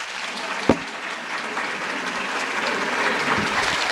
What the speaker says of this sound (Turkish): Alkışlarla uğurluyoruz kendisini.